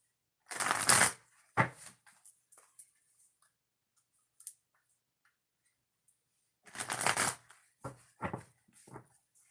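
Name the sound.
shuffling a deck of oracle cards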